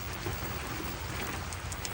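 Steady rain falls outdoors, a dense even hiss of drops pattering on surfaces that continues without a break, with no voices.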